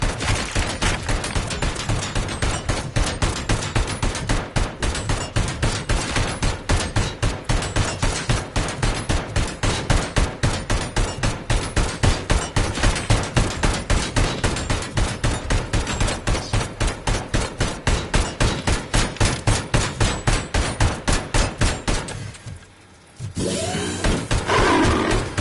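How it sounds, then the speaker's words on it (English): Enemy gunfire in the video game Robocop: Rogue City, loud, rapid automatic fire rattling continuously for over twenty seconds, breaking off briefly before resuming. "Just gotta wait till he stops shooting on the open."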